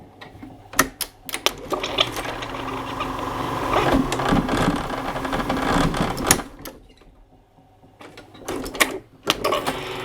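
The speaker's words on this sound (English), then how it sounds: "Caught under a shoe on the side of the machine, the end of the pipe is pulled up until the desired angle is made." A pipe-bending machine pulls the end of a cold steel pipe up against a shoe to the desired angle, giving close, irregular bursts of mechanical clattering and rattling with a brief quieter pause near the end.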